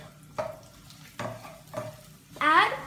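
Green chili goes into hot oil with curry leaves and seeds and is stirred, producing a few separate scraping strokes over a faint sizzle, ending in a louder burst of activity.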